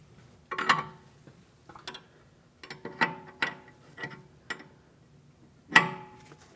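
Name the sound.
tightening steering tie rod jam nut on Chevrolet Malibu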